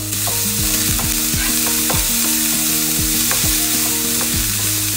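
Ground meat and softened onions sizzle steadily in a hot pan while a utensil stirs and scrapes repeatedly, giving sharp rhythmic clacks over a continuous loud frying hiss; no voices.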